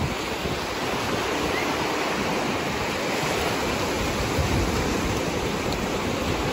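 Ocean surf at Santa Rosa Beach, Florida: a steady, loud wash of breaking waves with wind rushing across the microphone, continuous and without voices.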